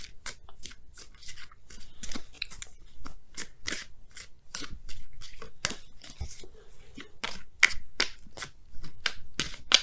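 Oracle cards are shuffled for a tarot reading, giving a rapid, close run of crisp clicks and flutters that keeps going for several seconds with no talk.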